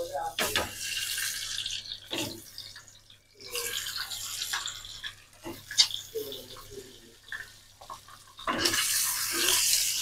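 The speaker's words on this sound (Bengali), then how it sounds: "ডিমগুলো এখন হচ্ছে একটা একটা করে ভেজে দেবো" Eggs are fried one at a time in hot oil in a pan. Loud, hissing bursts of sizzling alternate with quieter gaps, and a final strong spurt closes the sequence.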